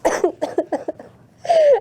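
A short burst of several quick, close coughs, followed after a brief pause by a final vocal sound.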